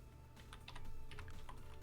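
Code typed on a computer keyboard, a quick run of close, crisp key clicks that grows a little denser midway, faint and heard alone.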